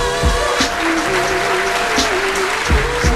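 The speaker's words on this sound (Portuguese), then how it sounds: "Palmas para Rita Pereira" Audience clapping at a hip-hop concert, a steady dense wash of applause with a few sharper bursts, loud and close throughout, while music plays faintly beneath.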